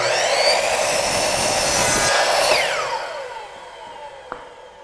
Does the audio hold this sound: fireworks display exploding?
no